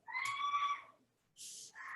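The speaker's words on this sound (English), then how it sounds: "There are children in the yard screaming for some reason." Children scream in a yard, high shrill wavering cries in two bursts with a short gap between, distant and moderately faint.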